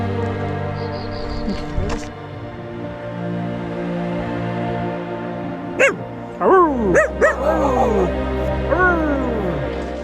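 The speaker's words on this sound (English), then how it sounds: "It's really a lot of doggies today." Several dogs along a roadside in the southern Balkans give a few sharp barks and yelps against steady outdoor noise, clustered in the second half.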